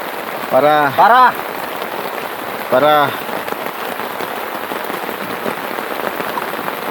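Heavy rain falling steadily at a motorcycle campsite, a dense continuous hiss of drops on surfaces throughout, with a few brief voiced calls standing out above it early on.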